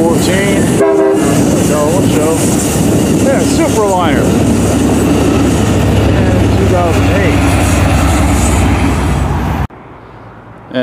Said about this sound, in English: our first train of the day is about to come over the bridge right now, and it's Amtrak